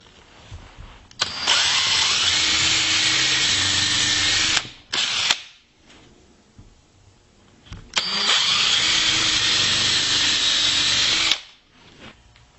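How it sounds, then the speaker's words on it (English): A power drill with a pre-drill countersink bit whirs loudly in two long bursts, each running several seconds, drilling holes for a desk cabinet, with short pauses of quiet between them. "I'm ready to drill my holes, and I'm using a pre-drill countersink drill bit."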